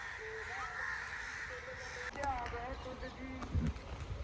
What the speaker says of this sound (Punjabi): ਸਾਰੇ ਬੂਟਿਆਂ ਦੇ ਉੱਤੇ ਜਿਹੜਾ ਆਏ ਕਾਂ ਹੀ ਕਾਂ ਆਏ